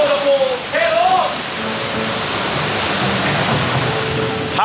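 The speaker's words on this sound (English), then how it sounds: "How good is that to see those waterfalls back on the rapids?" Waterfalls pour onto the Alton Towers rapids ride in a loud, dense, unbroken rush of splashing water close by, with brief voices briefly heard over the roar at the start.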